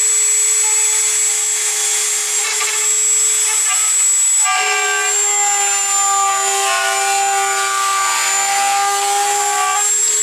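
A Dremel 3000 rotary tool plunge cutting, its high motor whine steady and loud throughout, with the pitch shifting midway as the bit bites in and a gritty cutting rasp layered on top, close up with no talk.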